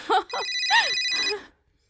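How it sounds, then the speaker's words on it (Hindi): A telephone rings indoors with a bright electronic trill, two short bursts followed by a longer ring, while a voice speaks briefly over the ringing before it stops. "ओह, प्लम्बर का फोन है।"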